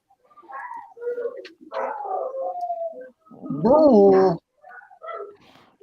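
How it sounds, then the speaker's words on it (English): Several dogs bark and howl indoors in short bursts, with one long, drawn-out howl in the middle, close and fairly loud between quiet gaps. "What's going on with all the dogs?"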